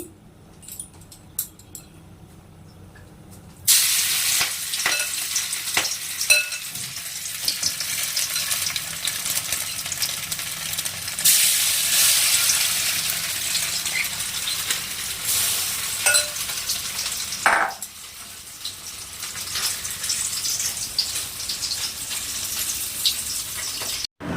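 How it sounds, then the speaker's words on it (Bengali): Noodle fritters deep-frying in hot oil, starting abruptly as a dense, loud sizzle and bubbling that holds for about twenty seconds, with a few clinks and surges and no talking. "এবার একটু একটু করে নিয়ে তেলে ভাজলেই রেডি"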